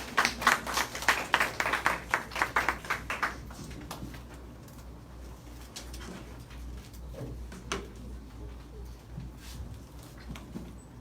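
A short burst of audience applause welcomes a guest speaker at a Korean church youth service. The clapping is loud and dense for about three seconds, then dies away into quiet room noise.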